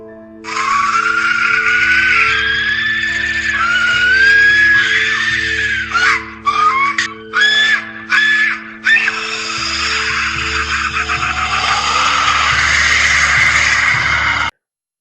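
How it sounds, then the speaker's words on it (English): Aztec death whistle, a battle instrument, shrieking like a human scream in long, loud, wavering wails, broken by a run of short sharp blasts midway before a sustained scream resumes and cuts off abruptly. "the Aztecs had an instrument they played in battle that sounds like people screaming in hell"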